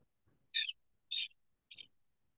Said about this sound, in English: Lewis's woodpeckers just do squeaky.